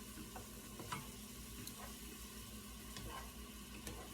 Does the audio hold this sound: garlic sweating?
yes